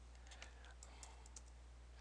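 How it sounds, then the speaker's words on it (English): Message being typed on a computer keyboard, quick light key clicks in an irregular patter, faint over a steady low hum. "here I would actually write the message"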